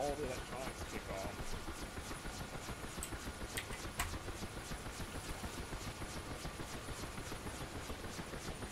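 A helicopter in the flight game DCS World, its rotor and turbine running: a continuous whirring drone with faint rhythmic rotor pulses, steady and moderately loud throughout, with brief clicks partway through.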